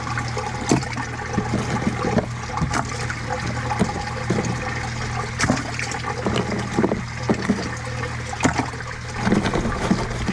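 Pieces of filter media are tossed into the water of a temporary koi pond, making scattered splashes and plops over a constant background of running, trickling water.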